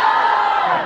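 A comic con panel audience lets out a brief warm-up cheer, a loud, sustained roar of many voices yelling together, filling the whole moment without a break.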